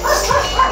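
A dog at a house in Tarlac gives a short, close, fairly loud bark, a quick yappy burst of woofing that fills the brief moment alone.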